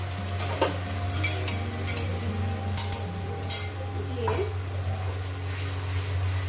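Ginger, garlic and chilli paste sautés in a pan with soft sizzling and occasional stirring scrapes and clinks, over a steady low hum from the stove or kitchen.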